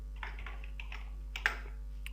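Typing on a computer keyboard while coding a web page, light scattered key taps at an irregular pace, faint and close, over a low steady electrical hum.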